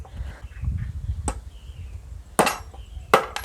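A nail is hammered into a steel rod bending jig, giving three sharp metallic strikes, spaced and close, over a low background rumble.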